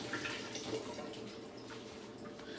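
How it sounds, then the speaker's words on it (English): A cup rinsed under a running tap, producing a soft, faint splash and trickle of water that continues evenly throughout. "I'm about to rinse this off."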